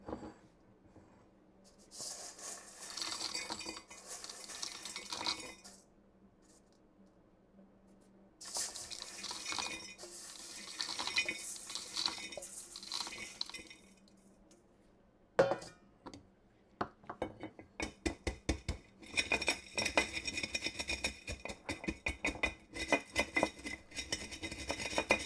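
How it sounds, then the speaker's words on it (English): Dry instant rice poured from trays into a jar, a granular hiss and rattle that comes in bursts with pauses, then a denser run of rapid patters toward the end, close and moderately loud. "I will just continue to fill up my jar here with all the rest of the trays"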